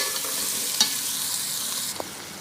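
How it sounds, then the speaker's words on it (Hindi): Carrots, green onion and capsicum stir-fry in a hot pan, giving a steady, close hiss of sizzling oil broken by a few scraping stirs of the spatula, with no talk. "इसे भी थोड़ा सा फ्राई कर लेती हूँ।"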